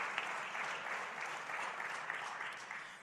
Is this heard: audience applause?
yes